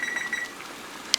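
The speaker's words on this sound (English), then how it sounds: "I'm just going to set the timer" A kitchen timer being set while brewing beer at home gives a few quick high electronic beeps in succession, followed by a single sharp click.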